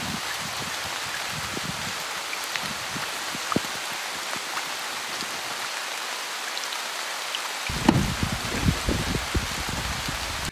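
Steady rain falls on surfaces outdoors at Robin Hood's Bay, a broad continuous hiss with scattered drop taps, growing heavier and closer near the end; no one speaks.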